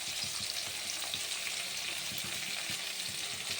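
Dried red chillies hit hot oil with a loud, continuous sizzle and crackle, close up, with faint stirring scrapes underneath and no one speaking.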